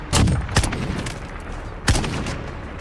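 Gunfire in Call of Duty Modern Warfare: loud, close shots in quick bursts, a cluster early on and another single sharp blast near the end, with rumbling game ambience between.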